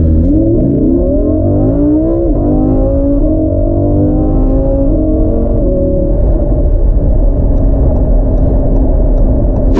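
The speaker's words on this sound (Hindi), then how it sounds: "अब हम गाड़ी का 0 to 100 जो वो चेक करते हैं।" A Lamborghini Huracan Spyder accelerating hard from standstill to 100, the engine note climbing loudly through rising pitches with brief dips at gear changes, close and continuous.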